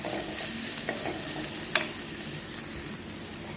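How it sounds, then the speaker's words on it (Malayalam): Dried red chillies sautéing in oil in a pan for sardine fish curry, a steady close sizzle with a few light clicks of a spoon stirring against the pan. "ഇനി ഞാൻ മുറിച്ച് വെച്ച വറ്റൽമുളക് ഇതിനകത്തോട്ട് ഇടുക. അത് നല്ലപോലെ ഒന്ന് വഴറ്റണം"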